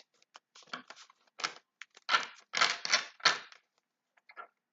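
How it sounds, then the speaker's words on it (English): Tarot cards are riffled and shuffled in several quick bursts of crisp, papery flutters with short pauses between, close by and with no talking. "I'm going to go ahead and shuffle these cards"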